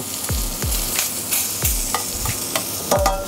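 Meat for kebab hitting a very hot pan, loud sizzling with a series of sharp scraping and stirring strikes at a quick, uneven rhythm, close up with no talk.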